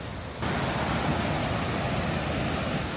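Waterfall pouring down beside a jungle trail at Iguazu Falls, a steady, loud broadband roar of falling water that swells in after a brief quieter moment and then holds constant.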